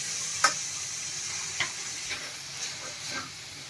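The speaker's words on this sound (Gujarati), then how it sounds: "જો આપણું ઘી એકદમ સરસ ગરમ થઈ ગયું છે તો હવે આપણે એમાં હલવો એડ કરી દેવાનો છે" Grated carrot for carrot halwa roasting in hot ghee in a pan, a faint steady sizzle with a few soft spoon scrapes and taps spaced across the stretch, no talking.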